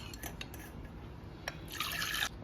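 Dissolved jaggery water for panagam is poured through a strainer, a quiet trickle with scattered drips that swells into a brighter splashing pour near the end.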